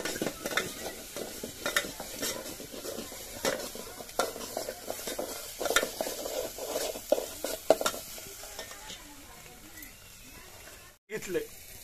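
Chicken masala being stirred in a pan over a wood-fired chulha, with a ground onion, coconut and tomato paste, giving soft scraping stirs and light sizzling throughout, under intermittent talk.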